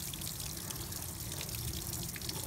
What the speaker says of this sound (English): here's the water that it's expelling.